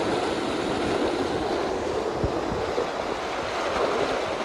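A continuous rushing roar of flowing water fills the clip, loud and steady, with no voices.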